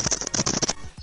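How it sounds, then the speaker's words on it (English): Close, dry scratching on skin, a quick run of rasping strokes followed by a couple of softer scrapes. "That was the sound of him itching his asshole."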